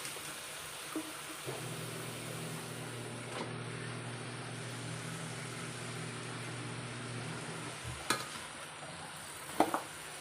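Okra being stirred with bagoong in a pan, heard as a low, steady sizzle with a continuous hum underneath and a couple of sharp clinks of the utensil near the end.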